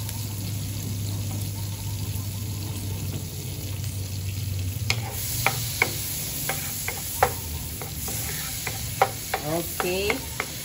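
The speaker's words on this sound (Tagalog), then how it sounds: "Ato, butangan of butter. Butter. And then, we're gonna saute the garlic." Garlic sautés in butter in a pan for cream-style corn, with a steady low sizzle that later mixes with repeated scraping and clinking of a utensil stirring against the pan.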